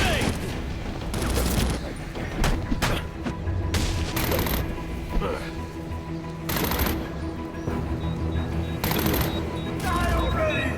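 Gunfire in Batman: Arkham Origins, with repeated bursts of automatic fire and single shots cracking across several seconds amid game noise, while someone talks over the action.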